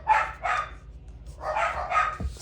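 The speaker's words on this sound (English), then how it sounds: "Sorry about my dogs barking." Household dogs bark in short bursts, two quick barks, a pause, then two more, heard indoors at moderate distance with no one speaking.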